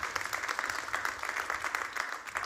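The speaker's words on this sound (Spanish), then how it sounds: "Denle un aplauso fuerte al Señor." A church congregation gives a strong round of applause for the Lord, a dense, sustained patter of clapping that continues steadily throughout.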